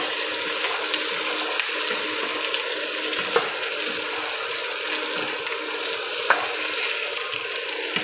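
Chopped vegetables, chayote or carrots, frying in a pan at home while being stirred, a steady close sizzle with occasional sharp clinks of the utensil, no talk.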